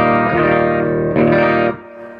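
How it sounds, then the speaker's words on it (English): A Kawai S180 electric guitar played straight into a Fender Princeton Reverb amp, its bridge pickup ringing out two loud, slightly driven strummed chords with reverb before the sound cuts off. "the guitar is just going straight into the amp, which is a Princeton reverb."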